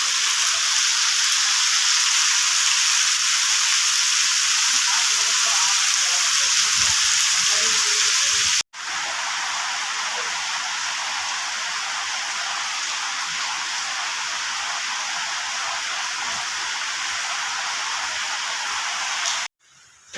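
Heavy monsoon rain pours steadily on a village in Gujarat, a dense, loud hiss of drops on surfaces that continues without pause, briefly cut twice.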